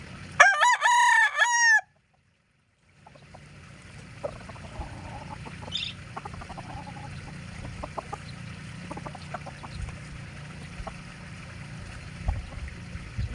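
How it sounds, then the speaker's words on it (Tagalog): A rooster with green legs crows loudly and close at the start, a long drawn-out call, followed by a low rumbling background with scattered faint clucks and clicks. "Ang gandang manok po nito."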